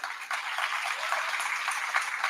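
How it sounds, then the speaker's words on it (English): Audience applause at a tribute event in a school hall, a steady wash of many clapping hands that holds for a couple of seconds with no voices on top. "If we can give him a round of applause."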